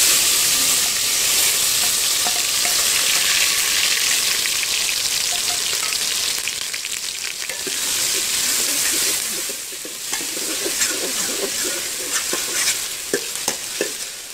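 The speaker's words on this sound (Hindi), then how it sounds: "इन सब चीज़ों को अब हम अच्छी तरह भूनेंगे" Loud, steady sizzling and crackling of tomato, garlic and ginger paste with green chillies frying in hot ghee, with occasional stirring scrapes, close up and continuous.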